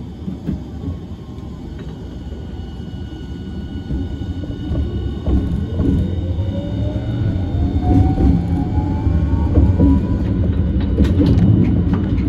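Hiroshima Electric Railway 1000-series PICCOLO tram on Line 1 pulling away from Hiroshima Station, a steady low rumble of wheels and motor building gradually, with a rising motor whine and faint rail squeal heard from inside the car.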